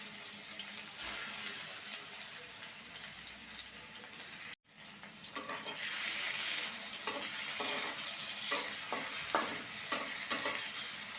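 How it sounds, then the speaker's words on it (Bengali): Chicken pieces fry in hot mustard oil, sizzling steadily up close while a utensil stirs and scrapes the pan in scattered knocks, with no speech. "চুলায় আমি আগে থেকে সরিষার তেল গরম করে রাখছি। এবার এই মাংসগুলো আমি ভেজে নেব।"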